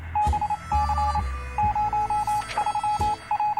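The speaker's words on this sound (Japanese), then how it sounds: "ピーピーピーピーピーって聞こえるぞ。" Rapid electronic beeping in short evenly spaced bursts in the video game 60 Seconds! Reatomized, repeating steadily over a background game soundtrack.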